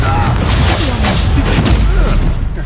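A Confringo fire spell blast in the Hogwarts Legacy video game, a dense booming burst with crackling debris sustained across the whole moment, set amid continuous loud combat noise with voices nearby.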